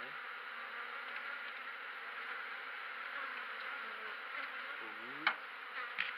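Honeybees drone in a steady, dense buzz around a hive entrance as swarms settle in, with a louder pass from a big bumblebee flying close near the end.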